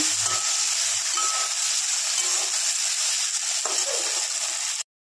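Cardamom pods and sugar frying in hot olive oil for an egg fried rice, a steady close sizzle with hiss that runs evenly for several seconds and then cuts off abruptly.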